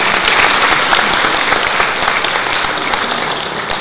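An indoor ceremonial crowd at a year-end gathering and welcome event for a flower design association claps continuously, a dense, loud round of applause throughout.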